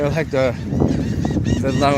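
Loud honking quacks from nearby waterfowl, several harsh calls in quick succession with brief gaps between them.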